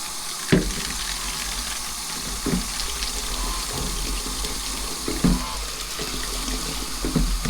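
Water runs from a hose or tap into a pastured pig's water container, a steady close rushing flow broken by a few soft knocks and splashes, with no voices.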